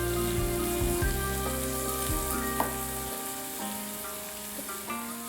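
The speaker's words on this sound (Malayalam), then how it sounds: "കുറച്ച് ഉപ്പും കൂടി ഇട്ട് വഴറ്റണേ." Chopped onions sauté in hot oil with salt for a cauliflower curry, giving a dense, steady sizzle and crackle. A loud low rumble drops away halfway through, leaving the frying clear.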